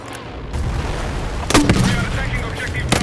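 Grenade launcher and gunfire in the video game Battlefield 6, with loud booming shots and sharp cracks over a constant rumble of battle noise.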